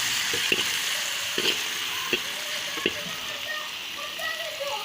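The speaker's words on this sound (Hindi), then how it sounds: "अब इसमें हम प्याज डालेंगे। ऐसे ही हम इसमें प्याज डालेंगे और प्याज को फ्राई करेंगे।" Onions fry in a pan with a steady, moderate sizzle that carries on throughout, marked by a few light clicks and scrapes from stirring.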